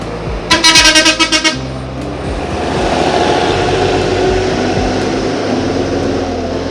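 A bus pulls into Pekanbaru bus terminal, several loud horn toots in a quick rhythmic burst near the start, followed by a steady rumbling engine and busy terminal noise.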